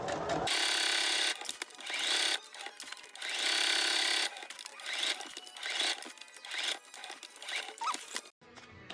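A sewing machine stitching a wide single stitch through a handmade journal, running in loud sustained bursts with short pauses between runs.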